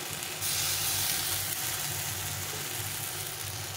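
Gandha leaf fritters sizzle gently in a little oil, a constant close hiss that jumps up sharply after a brief quieter start and then holds steady, with no voices.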